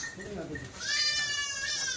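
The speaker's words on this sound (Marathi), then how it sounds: "शेळ्या चांगल्या आहेत, वरच्या शेळ्या आहेत" A goat bleats in a wavering, drawn-out cry close by at a goat sale, following a brief stretch of talk.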